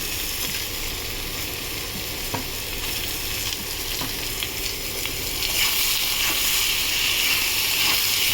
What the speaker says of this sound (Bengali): পেঁয়াজটা এর সাথে ভাজা ভাজা করে নেবো